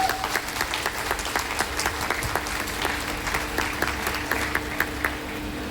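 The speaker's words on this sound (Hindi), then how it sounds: "एक बार मैं चाहूंगा आप लोग अपने लिए एक जोरदार ताली बजा लीजिए।" An audience at a lecture event in Gorakhpur gives a steady, moderately loud round of applause, the dense clapping continuing evenly without speech.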